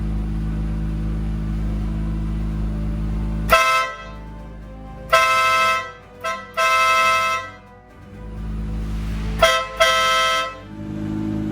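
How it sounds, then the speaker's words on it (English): A loud upgraded horn on a 2017 Acura NSX blasts in several bursts, a few short and a couple held longer, over a steady idling engine rumble. "with the horn upgraded, everything's already installed in here. It's definitely gonna be louder than stock"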